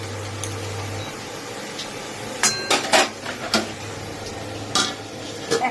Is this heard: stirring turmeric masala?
yes